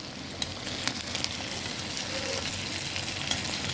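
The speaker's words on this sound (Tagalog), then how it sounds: "Yung lumalabas na yung kanyang mantika." Chicken adobo made with Sprite frying in its own rendered fat, a steady close crackling sizzle that runs throughout with a few sharper pops and no talking.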